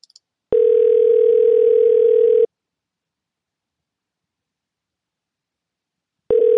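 Telephone dial tone on a call to an Asterisk PBX extension: a steady, loud single-pitched tone lasts about two seconds, stops into silence, then starts again near the end.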